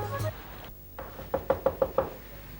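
Five sharp knocks on a door in quick, even succession, sounding close and fairly loud after a brief quiet pause, with faint room noise before them.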